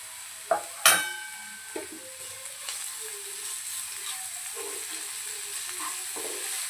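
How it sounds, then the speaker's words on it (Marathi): Carrots and salt stir-fried in a pan for a vegetable daliya, opening with a few sharp metal spoon clinks against the pan, then a soft steady sizzle with occasional scraping as the stirring continues. "मीठ ॲड केल्यानंतर छानपैकी यांना आपण एकदा परतून घेऊया।"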